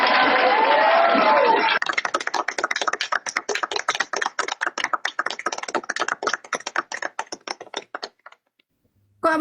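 Sparse, stingy-sounding hand clapping from a small audience at a comedy show: a murmur of voices gives way to a run of light, uneven claps with irregular spacing, thinning out and stopping into near silence.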